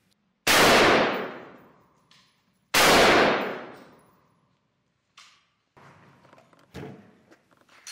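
Two loud, close gunshots strike a lightweight armor plate backed by clay, each a sharp blast with a decaying tail, a couple of seconds apart, followed by faint clanks and shuffling handling noises.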